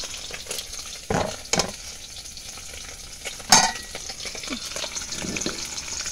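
Food frying in a pan, a soft steady sizzle punctuated by a few sharp utensil scrapes and clinks as it is stirred, close and fairly quiet, no speech.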